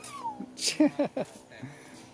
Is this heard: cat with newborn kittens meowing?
yes